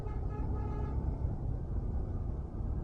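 Road traffic on the way to Lonavala, a steady rumble of engines with a car horn tooting near the start, close and fairly loud.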